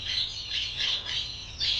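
A caged budgerigar lets out a run of sharp, bright squawks in quick bursts, close and loud, repeating about five times with no talking over them.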